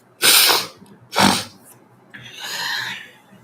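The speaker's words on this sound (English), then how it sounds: "I'm about to sneeze." Someone sneezes twice in quick succession indoors, two sharp loud bursts, followed by a softer breathy exhale or sniff.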